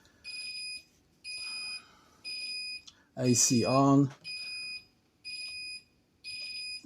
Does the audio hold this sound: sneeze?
no